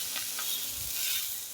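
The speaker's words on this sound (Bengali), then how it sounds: "মাছের মাথা ভাজছি" Fish heads frying in hot oil in a home kitchen with a fan running, giving a close, steady, dense sizzle with light stirring throughout.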